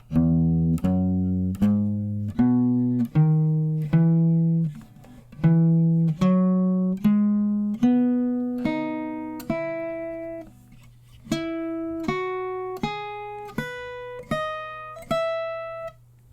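Clean guitar harmonics ring out one after another in a rising, scale-like run, each bell-like tone decaying before the next, over a steady low drone.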